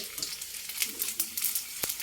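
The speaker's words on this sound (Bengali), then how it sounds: "এইভাবে সবগুলো আমরা ভেজে নিব" Fuchka puris fry in hot oil, a steady crackling sizzle with occasional sharper pops and spatters, close and fairly loud, with no talking.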